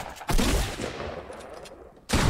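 Rapid gunfire from the video game Fortnite blasts in a dense, loud burst of shots that fades slightly before another sharp volley at the end.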